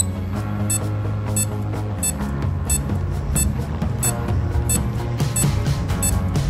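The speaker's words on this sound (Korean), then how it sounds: "메트로놈을 설정하면 일정 비트마다 진동과 알람이 울리는데요" A running watch's cadence metronome beeps at a steady, even beat, the short high beeps cutting through a loud, continuous background.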